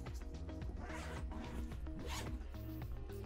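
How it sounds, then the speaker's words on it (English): A front zipper track on a Pakt travel backpack is pulled open in one steady, close run of ratcheting zip strokes, loud and alone with no talking. "unzipping the front zipper track all the way around"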